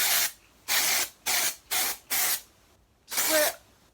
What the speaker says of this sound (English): Get some Batiste dry shampoo.